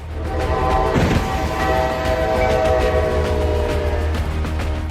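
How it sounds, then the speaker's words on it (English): An approaching train rumbles steadily nearby, a long horn blaring over the rolling noise of the wagons. "With the train closing in fast, there is no time left."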